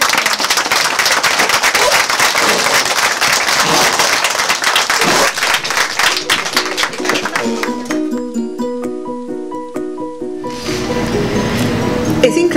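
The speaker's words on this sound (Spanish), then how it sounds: "Yo quiero un aplauso para ellos." A studio audience at a Spanish-language television programme applauds loudly, dense clapping that thins out partway through before swelling again.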